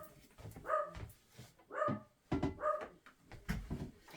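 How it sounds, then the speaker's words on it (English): A dog barks indoors, three separate barks spaced about a second apart at moderate distance, with no talk over them. "He's barking at Tilly."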